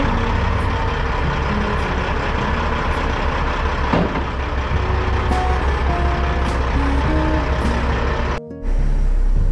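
A semi truck hauling dry freight idles with a steady engine rumble and intermittent beeping, then a sudden loud, sustained hiss as the air brakes are dumped near the end.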